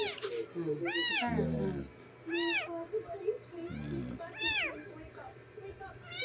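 Orphaned kittens meow repeatedly, several rising-falling cries in a row at close range, while a person talks over them.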